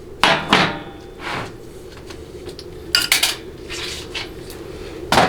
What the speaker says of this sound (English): And vanes go in the trash.